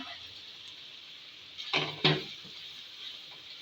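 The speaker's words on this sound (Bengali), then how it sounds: "এখন দিয়ে দেব বিনস কুচি" Chopped beans tipped into a pan of frying carrots for chilli egg fried rice, two quick clattering scrapes against the pan over a faint, steady background hiss.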